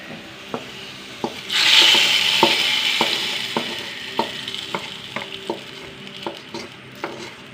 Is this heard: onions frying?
yes